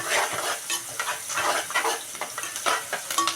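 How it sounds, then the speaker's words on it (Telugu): Onions with a pinch of turmeric fry in a pan, giving a steady, close sizzle broken by repeated scraping strokes of a spatula. "ఉల్లిపాయలు కొంచెం ఎర్రగా వేగనిచ్చి"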